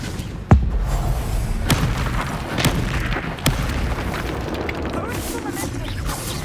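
Spell explosions from Confringo and other combat spells in the video game Hogwarts Legacy go off as sharp booms and cracks at irregular intervals, with a continuous bed of battle noise and game voices underneath.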